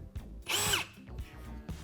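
A Ryobi power drill fitted with a door planer attachment whirs in one brief, loud, high-pitched burst, with low handling noise before and after.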